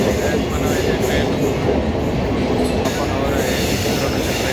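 Passenger train running on the Pune to Mumbai journey, a steady loud rumble of wheels and carriage noise throughout with no clear breaks.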